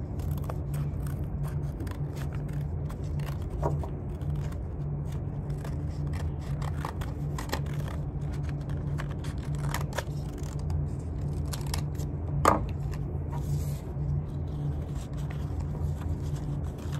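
Scissors snip through paper to cut out small hearts, a string of quick, close crisp clicks and rustles that repeats steadily without any talking.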